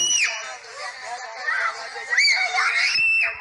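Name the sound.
girl screaming in a played video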